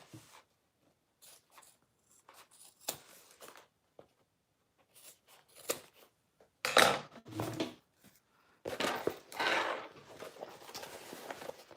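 Fabric pieces for a wristlet are trimmed with scissors or a cutter, giving scattered quiet snips and rustles that turn into louder bursts of handling and cutting noise near the end.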